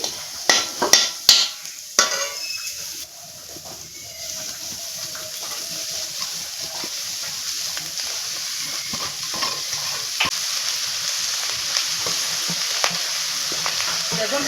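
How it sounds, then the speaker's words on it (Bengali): Chowmein noodles and vegetables stir-fried in a wok, a steady close sizzle broken at the start by several sharp scraping and clanking strokes of a utensil, then continuous frying with occasional light knocks. "চাউমিনগুলো দেওয়া হয়ে গেছে এখন আমি উপর নিচ করে নাড়াচাড়া করে নিচ্ছি"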